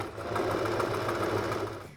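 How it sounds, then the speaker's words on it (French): A sewing machine runs steadily, stitching an invisible zipper, with a continuous close whirring hum and no talk over it. "on a terminé de coudre l'autre partie"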